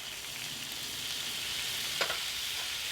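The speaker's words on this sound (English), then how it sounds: "we're going to put some shallots in. We are going to put some minced garlic in there." Chopped shallots and minced garlic sizzle steadily in a hot pan on a FIREDISC cooker, a close, even frying hiss with a brief scrape of stirring partway through.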